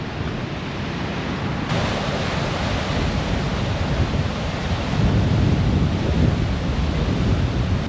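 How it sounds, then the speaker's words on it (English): A small twin waterfall at Cobbold Gorge, Queensland, roars with a steady, dense rush of water continuously at close range, with no voices. "There's the waterfall. It's like a little twin waterfall."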